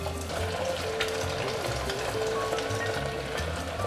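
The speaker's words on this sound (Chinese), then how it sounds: "把豆腐放进来炸" Cornflake-coated tofu deep fries in oil heated to 170 degrees, giving a dense, steady, close crackling sizzle that holds without pause throughout.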